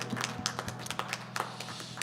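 A church congregation claps during a Friday worship service, a brief patter of hand claps at moderate level with no voices over it.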